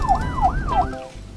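A toy police car sounds a loud electronic wailing siren, repeating its rising and falling sweep three times close up before cutting off.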